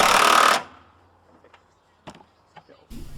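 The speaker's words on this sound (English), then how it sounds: "whack it on with the power tools" A power tool tightens a suspension bolt on a Eunos MX-5, a loud buzzing burst of about half a second, then quiet clicks and small rattles of work on the car.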